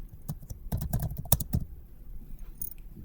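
Irregular clacking keystrokes on a computer keyboard, close and fairly quiet, in scattered bursts that trail off toward the end.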